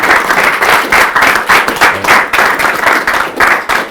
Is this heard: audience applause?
yes